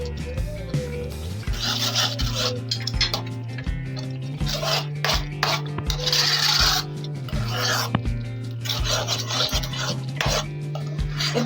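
A spoon rhythmically scrapes and stirs thickening Gobindobhog rice payesh with milk powder in a pot over a low flame, close and steady, with faint voice in the background.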